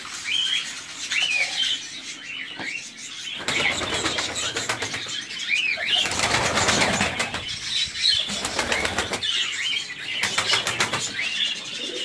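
Turkish pigeons at feeding time, with loud bursts of wing flapping coming in waves over a steady bed of chirps and soft cooing nearby.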